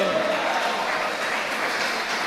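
A church congregation claps together in a short, steady burst of applause that fills the room, with no talk over it.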